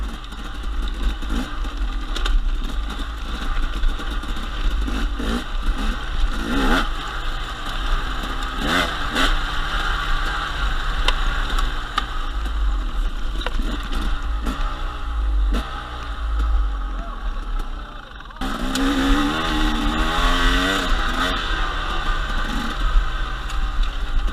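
A KTM 250 XC-W enduro motorcycle climbs an uphill desert section, engine loud and close, revving and wavering in pitch throughout, with a harder surge near the end.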